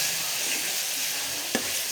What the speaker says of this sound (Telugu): దాన్ని కలుపుకోవాలి ఫ్రెండ్స్, కలుపుతూ ఉండాలి.